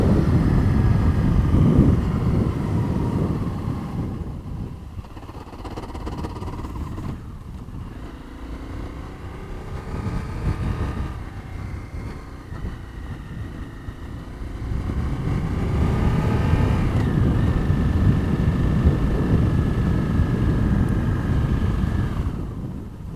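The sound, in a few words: dirt bike engine while riding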